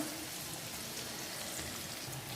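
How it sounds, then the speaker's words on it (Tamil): Onions fry in hot oil for chicken biryani, a soft, steady sizzle that hisses evenly throughout with no interruptions. "இதில் வந்து நான் ஆனியனை போட்டு வறுத்து எடுத்துக்கிறேன்"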